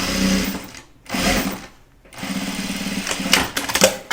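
Sewing machine running in short bursts while stitching a binding seam, loud and close, its rapid mechanical whir stopping briefly twice before a longer final run.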